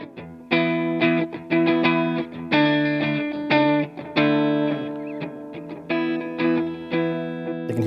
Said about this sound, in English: I have the squash compressor and the blue echo. So the compressor is currently on, but if Todd will play a little bit, I'll turn the echo on and off.